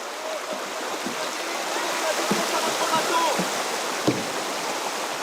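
River rapids in a dangerous canoeing stretch rush as a steady broadband roar of churning water, with small splashes and knocks throughout, heard at moderate level.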